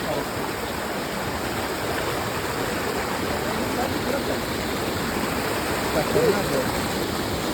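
Water rushes steadily nearby, a loud unbroken roar like a stream or small waterfall, with faint voices barely audible underneath.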